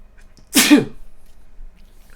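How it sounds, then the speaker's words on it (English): A single sharp sneeze bursts out, close and loud, with quiet room noise before and after. "I gotta sneeze."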